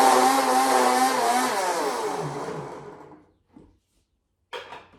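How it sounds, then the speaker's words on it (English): A blender whirring a keto morning drink made with Fatso, a loud motor whine that winds down and fades out, followed by two brief knocks. "you're just gonna give it a really good blend"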